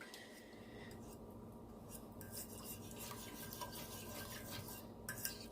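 A spoon stirs Alfredo sauce in a pot, steady scraping and swishing strokes that continue without a break. The sound is close and soft, with no talking.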